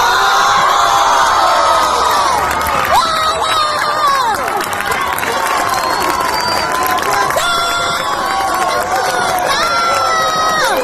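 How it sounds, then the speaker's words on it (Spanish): University students occupying their campus celebrate loudly, a dense crowd of shouts, whoops and chanting with applause throughout, close and sustained, with voices talking over it. "Y la celebración ahí de los estudiantes, los aplausos y el cantito"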